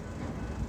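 Freight train wagons rolling along the Stony Point line in the bush, a steady low rumble that holds throughout at a fairly close distance, with no voices.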